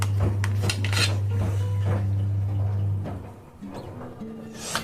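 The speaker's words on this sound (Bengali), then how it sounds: "আমি এবারে ঠিক কেটে কেটে দেখিয়ে দিচ্ছি আপনাদের" Knife cutting steamed yogurt sandesh on a metal tray, with close clinks and scrapes of the blade against the tray over a steady hum that fades partway through.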